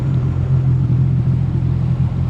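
A Sea-Doo RXP-X 300 jet ski revving on floodwater, a loud close low engine roar that holds steady for the whole brief moment.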